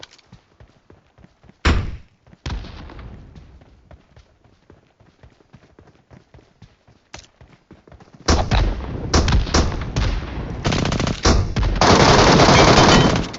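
Bursts of rapid automatic gunfire in the Metro Royale battle game, with a few isolated shots early on, then dense sustained volleys close and loud through the second half.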